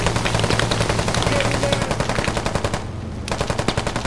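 Loud, sustained automatic cannon and machine-gun fire from a BMP armored vehicle in the military shooter Squad, with rapid, evenly spaced shots that pause briefly and then resume.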